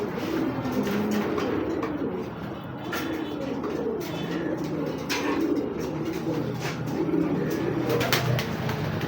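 Saddle pied racing pigeons cooing steadily in a loft, a dense layered murmur of many birds close by with no pauses throughout.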